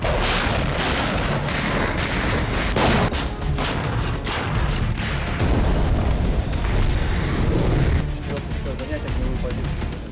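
Russian artillery and MLRS rockets fire in a rapid string of heavy booms and blasts, loud and close, with a dense rumble filling the gaps. A voice talks over the barrage.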